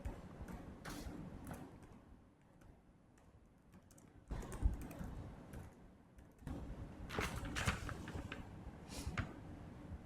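Keys clatter faintly on a computer keyboard as a caption is typed, a quiet run of light clicks and taps with short pauses between groups.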